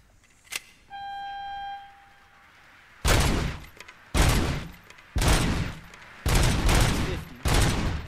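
Gunfire in the video game Robocop: Rogue City: five heavy, broadband bursts of automatic fire, each about a second long, come in a steady sequence after a brief electronic tone and a sharp click, loud and close.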